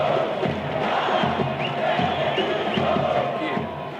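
A Brazilian football crowd in a stadium shouts and chants a player's name during a match against São Caetano, a dense, loud, rhythmic roar that carries on steadily throughout.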